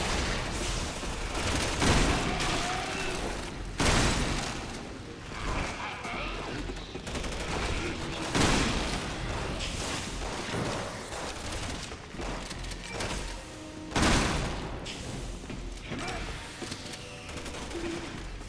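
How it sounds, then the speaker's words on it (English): Gunfire in Resident Evil 6 co-op: repeated bursts of shots and heavy reports crack throughout, some loud and close, others fainter, with people talking over the shooting. "Shooting at me."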